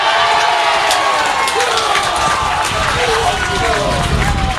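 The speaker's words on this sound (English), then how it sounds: "that cheer lets you know that short corner has been awarded to C of I" Crowd cheering and roaring at an Irish Senior Cup men's field hockey final as a short corner is awarded to C of I against Banbridge, a loud, sustained wash of voices throughout.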